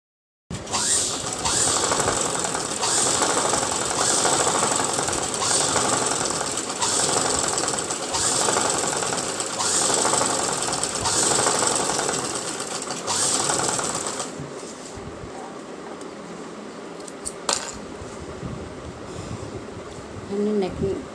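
A sewing machine runs steadily to stitch the lining along a dress neckline, a loud, continuous buzzing hum that lasts about fourteen seconds. It then stops, followed by softer handling sounds and a few light knocks.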